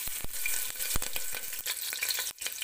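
Whole spices crackle and sizzle in hot oil for a vegetable pulao: bay leaf, cinnamon, cumin, a clove, black peppercorns and whole green chillies. Sharp pops ring out close over a steady frying hiss, with no voice.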